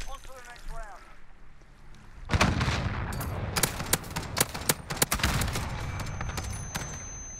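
Rapid gunfire from Call of Duty Modern Warfare, a burst of sharp shots and volleys crackling over a steady game background, with people talking over the game at the start.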